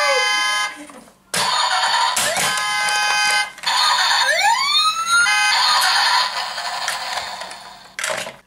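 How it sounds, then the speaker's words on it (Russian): A huge toy fire truck from the Paw Patrol line sounds its electronic siren, with a wailing, sweeping tone and steady beeping bursts that run loud and close for several seconds, broken by short pauses, with no talk. "вот такая вот огромная у нас пожарная машина"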